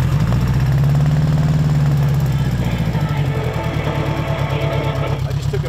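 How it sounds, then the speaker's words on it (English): A 1979 Honda Goldwing GL1000 motorcycle with a good battery idles steadily, its loud, close engine holding an even low rumble with a faint rhythmic pulse and no voices over it. "Starts right up, it's got a good battery."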